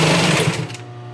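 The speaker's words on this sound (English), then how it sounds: "if you've got a sewing machine and it just seems like it just takes off on you" An industrial sewing machine driven by an old clutch motor races at high speed, a loud dense mechanical whir that slows and fades in its final moments.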